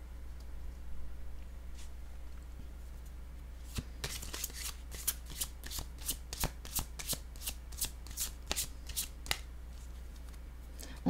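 Cards are shuffled by hand for a card reading, a quick run of sharp riffling snaps and flicks close by after a quiet start, with a hum in the background.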